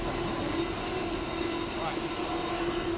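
A freight train passes at a railway crossing with a steady, continuous low rumble and droning hum that holds level throughout, while people talk over it.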